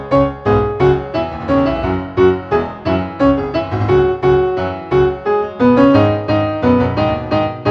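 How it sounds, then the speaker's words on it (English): A solo piano temp track of a musical score plays a lively, rhythmic passage of repeated chords and melody notes, close and clear, with no voices. "When the piano piece is complete, it sounds something like this."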